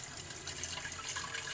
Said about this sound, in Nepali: यसलाई चाहिँ यसरी पानी हाल्छौँ